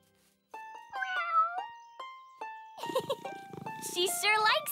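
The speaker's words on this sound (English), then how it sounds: "Meet my kitten." A cartoon kitten gives a few short, high meows near the start, followed by animated characters talking over further cat-like sounds.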